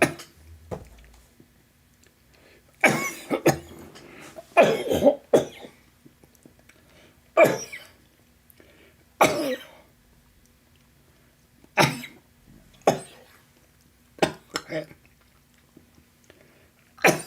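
A man coughs and clears his throat in repeated harsh bursts spread over many seconds, hacking at a pill stuck in his throat, with quiet gaps between fits.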